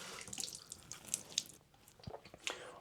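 A OneBlade razor is rinsed under running tap water, giving a brief close splash and trickle with a few small knocks and clicks, and no talking.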